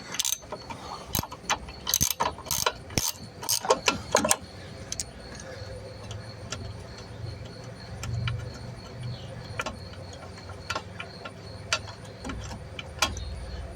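A socket wrench turning an engine bolt gives a quick run of sharp metallic ratchet clicks, then sparse faint ticks over a low background hum.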